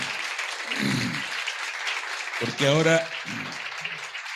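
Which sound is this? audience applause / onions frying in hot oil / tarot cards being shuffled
audience applause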